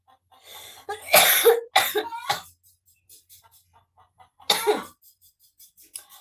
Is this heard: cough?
yes